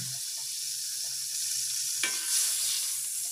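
A tablespoon of margarine melts into two tablespoons of hot frying oil with a continuous soft sizzle and light crackle, heard alone without any talking.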